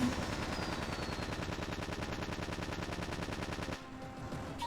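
Beam laser weapon firing in the Battle Engine video game, a continuous rapid pulsing buzz that holds steady and loud for several seconds before cutting off.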